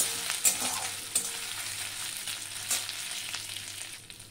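Food sizzles and fries steadily in a pan, with a few clinks of stirring. No one speaks.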